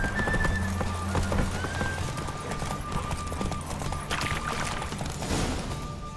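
The horse Roach gallops in The Witcher 3, with a steady, close clip-clop of hooves on the ground running throughout under ambient game sound and faint tonal notes.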